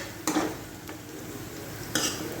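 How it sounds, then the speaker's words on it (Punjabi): Onions for a ridge gourd curry frying in a pan, a soft continuous sizzle broken by two brief spoon scrapes, heard close with no talking. "ਲਓ ਜੀ ਪਿਆਜ਼ ਆਪਣੇ ਜਿਹੜੇ ਚੰਗੀ ਤਰ੍ਹਾਂ ਭੁੱਜ ਚੁੱਕੇ ਆ"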